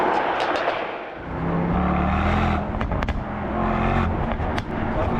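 A 2025 Mercedes-AMG S63 E Performance V8 engine rumbles loudly and continuously as it revs, with sharp crackling pops and bangs from the exhaust scattered through the roar.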